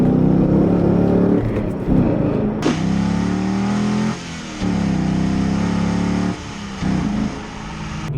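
A Camaro SS V8 engine with a cold air intake revs hard in loud repeated bursts, rising and dropping between throttle blips with a deep throaty intake roar, close by.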